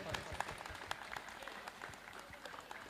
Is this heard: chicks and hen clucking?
no